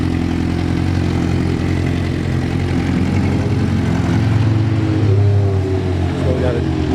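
2006 Honda CBR 600RR motorcycle engine running at a steady idle after start-up, a loud, close, continuous low rumble with a slight rise in revs near the end.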